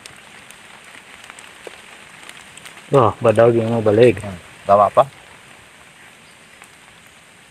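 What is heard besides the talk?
rain falling in rice field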